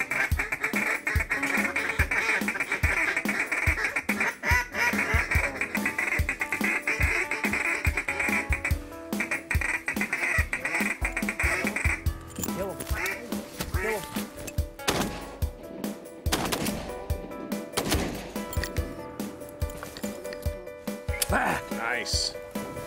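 Gadwall ducks quacking as they fly into decoys over a hunting pit in flooded corn, a busy mix of calls and loud bursts, with people talking nearby.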